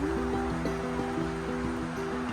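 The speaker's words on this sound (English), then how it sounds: "This is right next to a creek." A creek flowing beside a campsite on the Appalachian Trail: a steady, faint wash of rushing water runs throughout, with some low tonal hum mixed into the background.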